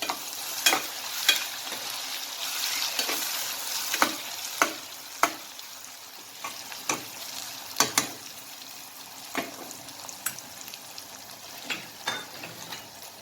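Tomatoes fry with an onion mixture in a pan, giving a steady sizzle broken by repeated sharp scrapes and clinks of a spoon stirring, close and moderately loud with no talk.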